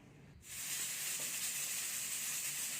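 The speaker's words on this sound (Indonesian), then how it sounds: "lalu nyalakan kompornya, jangan lupa dinyalakan." Gas stove burner lit beneath a covered pressure cooker holding peanuts, igniting with a faint click and then settling into a steady, close hiss with no talk.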